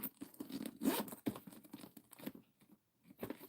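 A zipper on the inside pocket of a barrel-style bag slides open in short scratchy pulls, close and fairly quiet, with small rustles of fabric between strokes.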